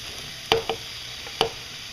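Vegetables sizzling in a pan over low heat, a soft steady fry hiss with a few sharp clacks of stirring and scraping, close and without talk.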